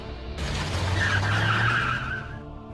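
A car pulls away with a loud tire screech and engine roar, the squealing skid rising then easing as it speeds off nearby.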